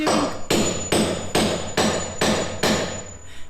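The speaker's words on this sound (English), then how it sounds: "installs and nails down the wood" Repeated hammer blows drive nails into wooden floorboards during a barn conversion, six or seven loud, evenly spaced strikes ringing close by, with no talk.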